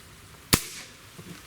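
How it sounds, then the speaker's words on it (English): A Diana RWS 34P Pro Compact air rifle fires a single pellet, one sharp loud crack with a short ringing decay, then quiet. "let's just shoot 5 quick shots over the crony"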